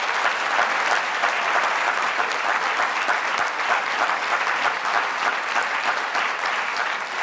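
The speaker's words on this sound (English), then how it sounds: "Another round of applause for all of them." A large audience at a health summit breaks into sustained, dense applause, steady and loud from start to finish with no pause.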